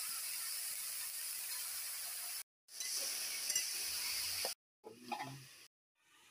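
Bethua greens frying in a pan with onion and garlic give a steady, close hiss of sizzling oil, broken by brief pauses and a few stirring clatters.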